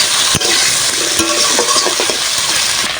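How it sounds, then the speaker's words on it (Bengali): Malabar spinach stalks frying in hot oil with turmeric and green chillies crackle in a loud, continuous sizzle close up, punctuated by a few sharp stirring knocks, with no talking. "ডাটাটা তেলের ভিতর দিয়ে ভালো করে ভাজা ভাজা করে নেবো আগে।"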